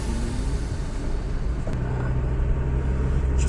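A car engine rumbles at close range, with a sharp click midway before it settles into a steady running hum.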